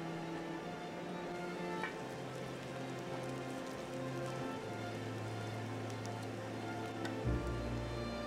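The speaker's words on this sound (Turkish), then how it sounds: "Şu anda çok güzel yağıyor." Rain pattering on a tent at a winter camp in the snow, a dense, even patter of drops close overhead, steady throughout with a few brighter individual drops and a low hum underneath.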